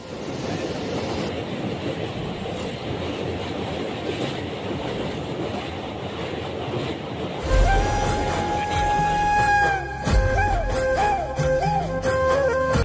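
A local train runs on the tracks, first a steady rumbling roll, then louder clattering wheels with squealing and whining tones as the carriages rattle along close by.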